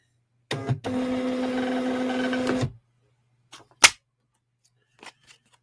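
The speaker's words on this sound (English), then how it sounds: "I just print this out on my label printer" A label printer prints a shipping thank-you message, giving a loud steady mechanical whir for about two seconds and then stopping, followed by a few faint clicks and a sharp tap nearby.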